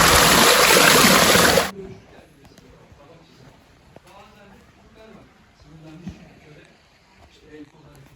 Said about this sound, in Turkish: Görüldüğü üzere bu su bugün hala akıyor